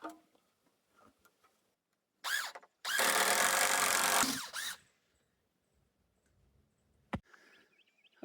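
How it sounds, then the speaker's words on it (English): A power drill drives screws into wood for a farm stand: a quick burst, then a longer sustained whir of about two seconds, close and loud between quiet pauses and small knocks. "use just a spare piece of wood to kind of help you brace the piece that you can drill it in"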